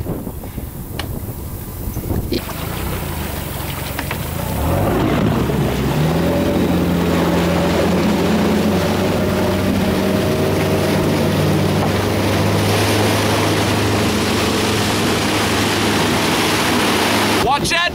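A loud airboat engine roars up and settles into a steady drone over rushing water and wind noise, close and continuous.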